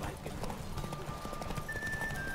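A horse gallops during a race in The Witcher 3: Wild Hunt, steady clip-clop hoofbeats running continuously beneath a thin tonal game sound, with a faint whinny hinted.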